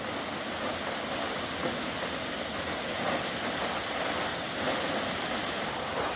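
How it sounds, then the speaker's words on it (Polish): Steady broadband roar of a waterfall on Lombok, Indonesia, as heard from a viewing terrace, a constant dense rush of falling water with no breaks, fairly distant and without voices. "Tak się prezentuje wodospad z tarasu widokowego."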